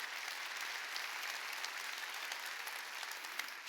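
A church congregation applauds steadily and evenly during a New Year's Eve service, with the clapping continuing throughout and no voices heard.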